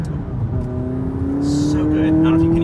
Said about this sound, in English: I don't know if you can hear that turbo.